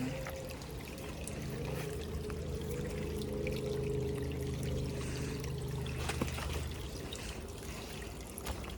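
Water trickles and gurgles steadily in a shallow forest stream in the UK countryside, a continuous close wash of flowing water with no voices over it.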